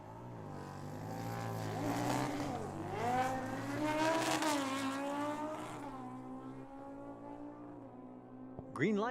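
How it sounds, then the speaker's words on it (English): A drag racing car launches at Tucson Dragway, its engine roaring loud and rising in pitch through the gears, then fading as it pulls away, with a sharp new burst at the end. "Oh, Joe hammered down on the throttle and goes 5 above with a 1"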